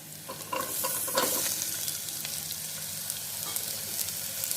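Pieces of bottle gourd fry in a pan for a simple curry, sizzling steadily and close up, while a spoon stirs them with a few scraping strokes early on.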